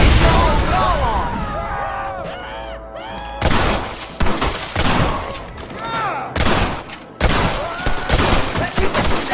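Gunfire in a Red Dead Redemption shootout, with repeated loud bursts of shots close together, mixed with voices shouting over the noise.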